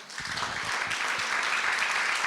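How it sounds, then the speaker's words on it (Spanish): Church congregation clapping together in sustained, dense applause that stays loud and steady throughout. "¿Quiere darle un aplauso a Jesús por eso?"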